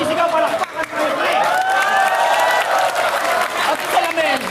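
A crowd applauding and cheering at a FlipTop rap battle event, dense continuous clapping with cheers rising above it throughout.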